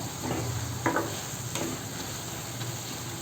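Mint leaves sautéing in a pan for chutney, a low steady sizzle with a few soft scraping stirs of the spoon, close and alone.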